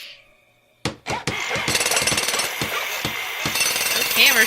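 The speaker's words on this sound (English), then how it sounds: "Those hammers sure do make a lot of sound effects. Saw and drill and jackhammer." Cartoon jackhammer sound effect: after a brief quiet start, a loud, dense rapid pounding rattle kicks in and runs continuously with a few sharp knocks, some voices under it.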